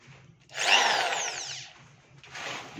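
A cordless impact drill whirs loudly for about a second with a rising whine, pauses, then spins up again more softly, close by with no talking.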